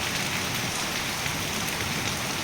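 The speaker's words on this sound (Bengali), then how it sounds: "আজকে অনেক জোরে বৃষ্টি এসেছে" Heavy daytime rain under an overcast sky, a steady, dense hiss of drops striking surfaces all around, loud and unbroken with no voices.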